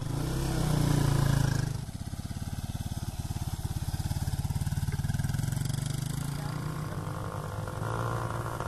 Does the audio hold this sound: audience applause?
no